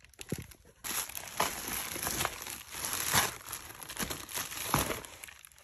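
Gift wrapping paper is torn open and crumpled in close, irregular bursts of crinkling and rustling, with no talk.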